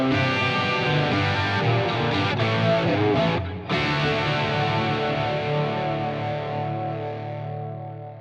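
Electric guitar through an Axe-FX III humbucker scene, distorted chords with chorus and echo ringing out loud and sustained, a brief gap in the middle, then a long chord decaying slowly at the end.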